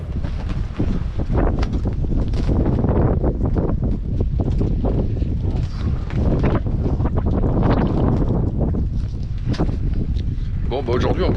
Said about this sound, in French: Il y a 25 nœuds de vent, ça souffle.